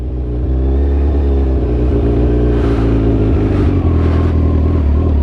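A motorcycle pulling away after the clutch is released during a beginner riding lesson, its engine a loud steady drone that rises slightly in pitch as it accelerates, close by, no talking.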